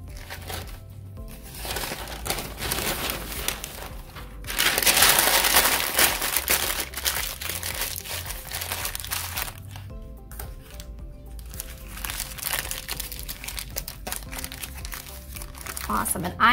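Newspaper being crumpled and torn for a papier-mâché black bear, with repeated crinkling, rustling and crunching bursts at close range, loudest in the middle, while a person talks at intervals.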